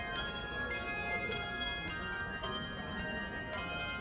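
Christmas music played on bells outdoors in a city, with repeated bright struck tones ringing at a steady spaced rhythm over a soft crowd murmur, moderately distant.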